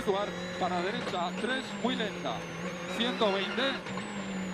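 A rally car at Rallye de Catalogne 2013 slows after the end of a special stage, its engine note rising and falling in short repeated revs under an excited commentator.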